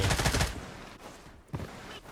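Rapid enemy gunfire in the shooter Blood Strike, a dense burst of shots up front followed by a couple of fainter isolated cracks, with no voices.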